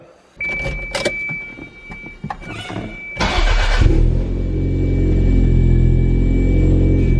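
Toyota MR2 fitted with a standalone ECU, with a key jingle and clicks before the engine cranks briefly and catches, then settles into a loud, steady idle rumble close by.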